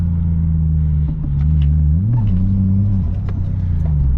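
A car engine hums steadily from inside the cabin, a low continuous drone that rises briefly in pitch as it revs, then settles again.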